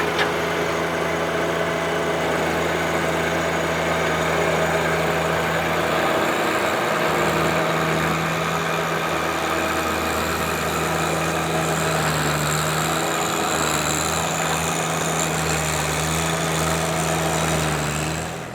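A small garden tiller engine runs while working soil in a field, a steady buzzing drone with a constant low hum, close and continuous for the whole stretch, fading slightly at the very end.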